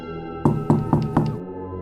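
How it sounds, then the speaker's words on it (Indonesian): Four slow, evenly spaced knocks land on a wooden door, close and solid, ringing out alone over a faint musical hum as a horror story sound effect. "Ia mendengar seseorang mengetuk pintu perlahan"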